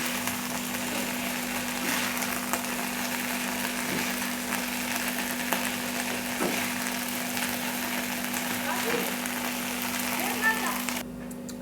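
Okra stir-fry sizzling steadily in a pan as it is mixed with fresh coriander, a continuous close frying crackle with faint scraping stirs throughout.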